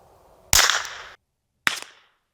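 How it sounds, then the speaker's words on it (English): Two sharp, close unsuppressed shots from a Ruger Mark IV pistol firing Aguila Colibri ammunition, each a crisp crack with a short fading tail, spaced about a second apart. "So I think first I'm going to do 5 shots. We'll do the Ruger pistol first."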